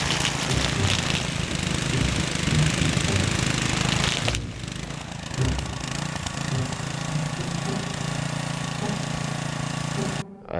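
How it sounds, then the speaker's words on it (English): An industrial weed whacker engine runs steadily and loudly on a farm while cutting through thick thistles. It holds a continuous droning roar throughout, with a brief dip partway through and a short cutout near the end. "It was like an industrial weed whacker."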